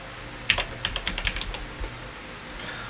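Quick bursts of keystrokes clatter on a computer keyboard whose R key is sticking, a dozen or so light clicks in an uneven run, then a pause and one more tap, quiet and close.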